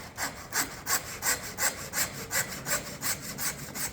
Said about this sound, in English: Really easy with this handsaw.